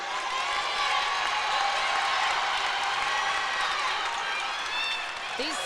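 Spectators from both sides cheer and clap at a Pewaukee versus Pius girls' high school basketball championship game, a loud, steady roar that dips slightly near the end, with a commentator's voice faintly under it.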